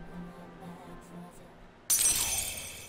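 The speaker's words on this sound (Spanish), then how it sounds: "Una botella se rompió sin venir a cuento por ahí" A glass bottle abruptly shatters in the PS2 game Persona 3, a sudden loud crash with a tinkling tail after a stretch of quiet ambience.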